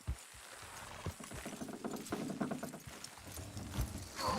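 Horse hooves clip-clopping in the Red Dead Redemption 2 video game, a steady run of hoof beats at moderate distance with a brief whinny-like cry near the end, and no talking.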